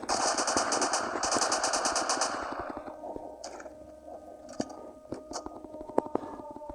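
A new gun fires in the Siren Head video game: dense, rapid machine-gun bursts for the first few seconds, then scattered single shots over quieter game ambience.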